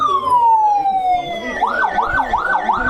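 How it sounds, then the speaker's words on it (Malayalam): A loud, close ambulance siren sweeps downward in one long wail, then switches to a rapid repeating yelp cycling up and down. "അതിന് വേണ്ടിയിട്ട് നമ്മൾ ഉപയോഗിക്കുന്ന സൈറനാണ് ഇത്."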